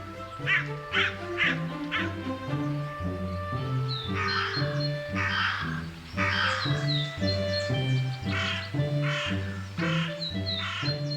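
Wild crows in the Italian wilderness caw repeatedly, a chorus of loud, harsh calls in quick overlapping bursts over a steady low tonal background.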